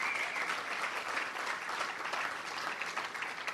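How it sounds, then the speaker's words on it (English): A crowd at a Trump rally cheers and applauds in a dense, continuous roar, loud and steady throughout with no single voice standing out. "He fires up the crowd."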